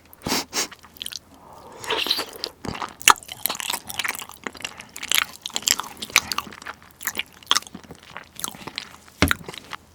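Close-up biting and chewing of a dense, brick-like chunk of Greek yogurt, with irregular sticky tearing, squishing and wet mouth sounds in separate bursts.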